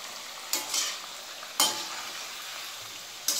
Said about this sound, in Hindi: अब हम इसे चला लेंगे।